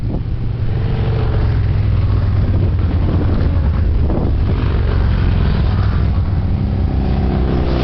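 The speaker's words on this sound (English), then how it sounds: "Motorcycle club up here." A group of motorcycles from a riding club rumbles past on a mountain road in Angeles National Forest, a loud, continuous low engine drone that swells and holds throughout.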